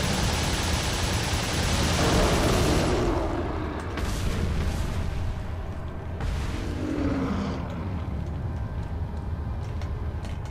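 A magazine is emptied in Resident Evil 4 as loud rapid gunfire roars for a few seconds and then stops abruptly, leaving softer scattered impacts and low background noise.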